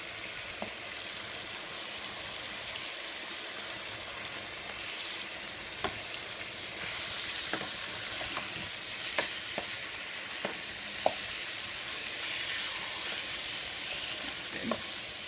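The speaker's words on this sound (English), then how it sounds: "Kind of like searing on both sides" Seasoned chicken searing in a hot pan gives a dense, steady sizzle throughout, broken by scattered clicks and taps of a utensil turning the pieces, close and fairly loud with no talk.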